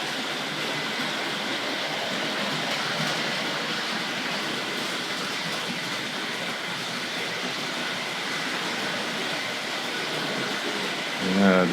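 A Tri-ang R.356 Battle of Britain Class model locomotive, "Winston Churchill", runs along the track toward a station with a steady, continuous whirring rumble at moderate volume.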